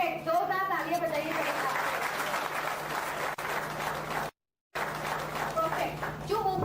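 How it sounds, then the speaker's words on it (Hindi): Loud applause from an audience at a talk on company core values, steady clapping with voices mixed in and a brief dropout near the end. "जोरदार तालियां बजाइए"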